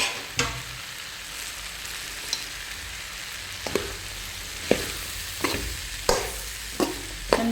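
Jaggery and grated coconut stirred together in a hot pan, a steady sizzle with repeated scraping strokes of the spoon against the pan, close and unaccompanied by talk.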